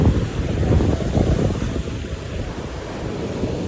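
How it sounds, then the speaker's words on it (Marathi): Rough sea surf crashing on the Konkan shore, loud continuous roar of breaking waves with heavy wind buffeting the microphone, no voices. "पूर्ण समुद्र खवळला आहे."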